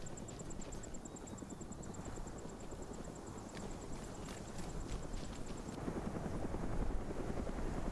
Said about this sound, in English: OPFOR still have the helicopter in the air.